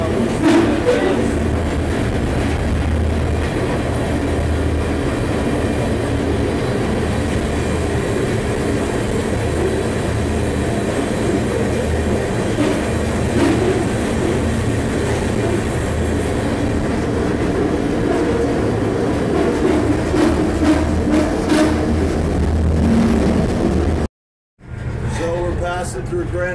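A Union Pacific freight train rolls along near its front cars through Grand Junction, giving a loud, continuous low rumble and rattle with faint rhythmic clatter that runs unbroken until a brief cut near the end.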